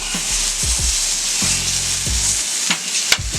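Steak sizzles loudly in a hot pan, a close, continuous hiss broken by a few short scrapes and knocks as the meat is moved.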